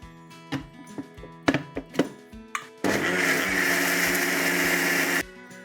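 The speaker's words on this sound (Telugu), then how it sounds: "దోశ పిండి ఎలా పట్టుకుంటామో అలా పట్టుకోవాలన్నమాట మిక్సీ చేద్దాం" Loud steady whirring grinding from a mixer grinder running for a couple of seconds on dosa batter, preceded by several sharp knocks and clatters.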